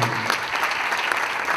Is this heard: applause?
yes